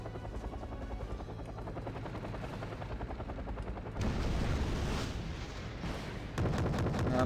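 Mi-8 helicopter rotor drone in Wargame Red Dragon, loud and steady throughout, with sniper and gunfire cracks and a jump in intensity partway through as shots ring out around the aircraft.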